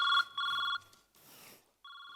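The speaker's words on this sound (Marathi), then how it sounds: "म्हणजे बायकोचा फोन आलाय" Telephone ringing in bursts of bright electronic trilling, two close rings, then a pause filled with a brief rustle and noise, then another ring, on a comedy stage.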